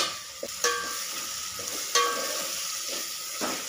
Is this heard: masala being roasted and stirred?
yes